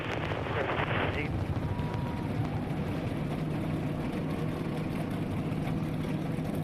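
A field of NASCAR stock cars fires up for the 2009 Ford 400 at Homestead-Miami, a dense, steady roar of many engines rumbling together at one level, with a brief higher-pitched burst near the start.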